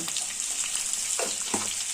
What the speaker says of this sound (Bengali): আলুগুলোকে লাল লাল করে ভেজে নেবো